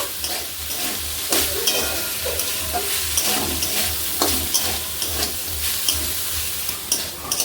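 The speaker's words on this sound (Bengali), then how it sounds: "গ্যাসটা একটু বাড়িয়ে ভালো করে নাড়াচাড়া দিয়ে নেব" Chopped chicken and onion are stirred in a pan over a raised gas flame: a steady frying sizzle with repeated scraping strokes of the spoon, close and continuous, with no talking.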